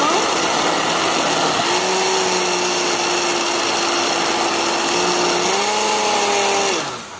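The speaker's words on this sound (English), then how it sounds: "now after I'm blending it" A kitchen blender runs continuously at high speed, blending food with a loud, steady whirring drone whose pitch shifts slightly midway before the motor winds down at the end.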